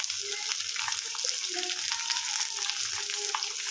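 Chopped onions dropped into hot oil with frying chilies in a pan for a village-style tamarind chitranna, giving a steady close sizzle with light scraping and stirring clatter.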